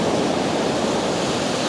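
Sea water washing around coastal rocks, a close, steady broadband rush of surf with no distinct breaks, mixed with some wind, no voices.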